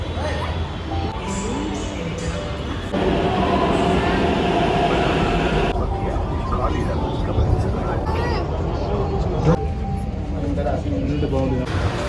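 A Hyderabad metro train rumbles steadily from inside the carriage, a dense continuous roar that grows louder partway through, with faint voices underneath.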